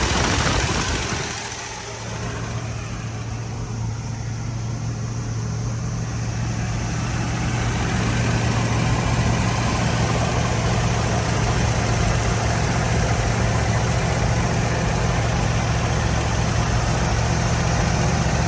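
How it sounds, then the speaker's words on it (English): A running, driving car idles steadily and loudly after a brief start at the opening, holding a constant low rumble for the rest of the stretch with no talk. "Just an excellent running and driving vehicle. Fires right up."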